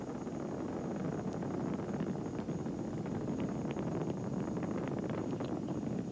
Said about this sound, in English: Three engines on Discovery now throttling down to two-thirds throttle